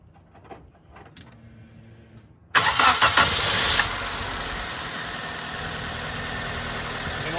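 Nissan Pulsar engine cranking and firing up after an ignition coil change, with a loud start burst that settles into a steady, smooth idle, preceded by quiet handling sounds.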